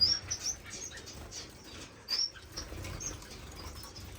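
Star finches flutter their wings in an indoor bird room, with soft flapping bursts near the start and again around two seconds, and a few faint high chirps scattered among them, close and quiet, with no voices.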